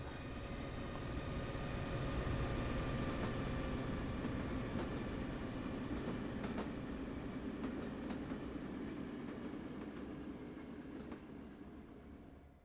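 A train runs in the Train Sim World 2 video game with a steady rumbling drone and repeated clicking rail joints, sustained and fairly loud for the whole stretch with no speech.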